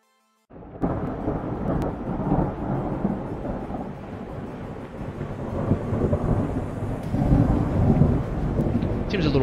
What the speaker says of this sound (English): Got a storm.